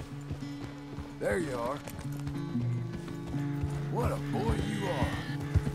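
A horse in the Red Dead Redemption 2 video game gives a few clear neighs and whinnies over a steady game music bed, with someone talking to the horse in between.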